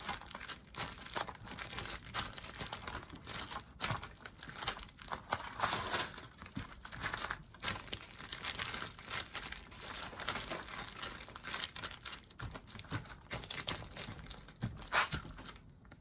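Paper crinkles and rustles while being rolled and pressed flat for a nature collage, giving soft, continuous close-up crumpling and tearing textures at low volume throughout.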